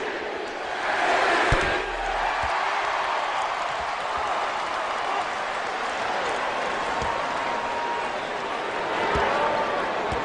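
A basketball arena crowd roars and cheers in a steady, dense wash of noise for the full stretch, with a few claps and thumps in it and a slight swell near the end.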